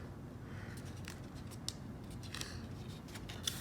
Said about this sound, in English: And then taking some sharp scissors,